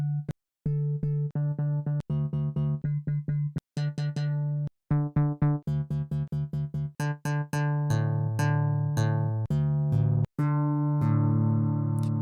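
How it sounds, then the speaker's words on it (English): Synthesizer plucks from the pluck oscillator presets in UVI Falcon 2 play in quick staccato note runs, bright and clean, changing timbre from phrase to phrase with no talking. "you can use the Pluck oscillator, which makes this a bit easier"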